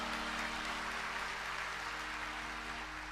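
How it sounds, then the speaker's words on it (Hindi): An audience claps together at a devotional storytelling gathering, a dense, steady wash of applause lasting a few seconds without speech. "जब 50 योजन के नाम पर ताली बजा"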